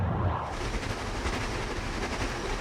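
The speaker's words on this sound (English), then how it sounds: "The train winds its way through the Italian countryside" A train travelling through the Italian countryside, heard as a continuous rumbling roar with faint rhythmic rail clatter, fairly loud and steady for the whole stretch, no talking.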